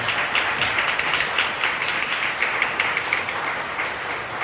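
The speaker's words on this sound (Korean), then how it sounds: "다시 한번 박수 보내주시면 감사하겠습니다." Wedding guests clap at a hall ceremony held without an officiant, a steady and fairly loud wash of applause that continues without a break for several seconds.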